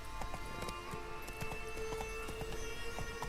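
Roach the horse gallops in The Witcher 3: Wild Hunt, Blood and Wine: steady, fast clip-clopping hoofbeats repeat close by under a quiet, continuous game soundscape.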